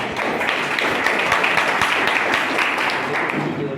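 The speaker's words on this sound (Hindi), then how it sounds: "एक बार जोरदार तालियों के साथ स्वागत" Steady, dense applause from an audience welcoming a guest at a community project event in Bundelkhand, India, with many hands clapping evenly and fairly loudly throughout.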